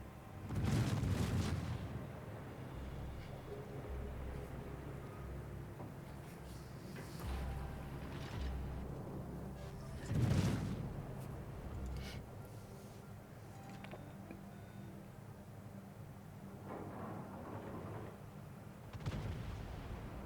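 Naval artillery fire in the Chapayev video game: a few distant heavy booms spread apart over a low, steady battle rumble, with no speech.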